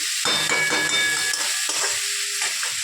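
Dry paneer being sautéed in a pan, a continuous sizzle and fry hiss with a couple of bursts of stirring scrapes, close and fairly loud, with no talk.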